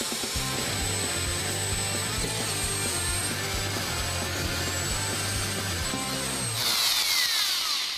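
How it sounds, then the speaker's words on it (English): A power drill bores a hole into the corner of a computer case while a cooling fan is being installed, a steady whining motor drone holding for several seconds before a higher rasping finish. "So what I want to do is drill a hole on this corner and on this corner."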